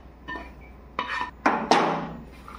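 A metal spoon scrapes and clanks against a pan while ragi laddu mixture is stirred with melted jaggery, four distinct clinks growing louder with short pauses between, close and alone.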